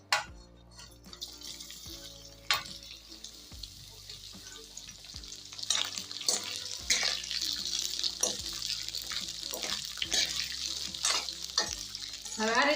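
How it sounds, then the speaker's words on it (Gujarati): Chopped cauliflower florets frying in hot oil in a wok, a steady bright sizzle with repeated scraping stir strokes and occasional clinks, close and fairly loud, no talk. "તો હવે આ ફ્લાવર જે આપણે સમારીને રાખ્યું છે ને બધું આની અંદર નાખીને આપણે તળી લેશું"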